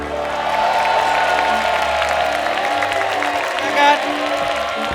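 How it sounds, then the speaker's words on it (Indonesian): Studio audience applause for the panelists of a talent show, steady clapping throughout with a brief cheer near the end and voices mixed in. "Tepuk tangan dulu untuk para panelis"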